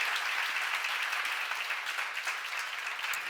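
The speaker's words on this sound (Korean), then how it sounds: "박수 세게 쳐요." A church seminar congregation claps in a dense, continuous burst of applause, fairly close and even in loudness, with no talk over it.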